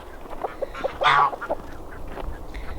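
Geese on a small winter farm pond give a brief loud honk amid scattered softer calls and quiet splashing, heard nearby with no talking.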